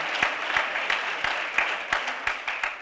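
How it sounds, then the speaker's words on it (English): Round of applause from an indoor audience at an NAACP jobs campaign gathering, moderate clapping with sharp individual hand claps popping out at irregular intervals over a steady patter. "Let's give them all a round of applause."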